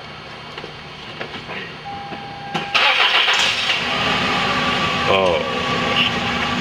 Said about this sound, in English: We're going to start the vehicle.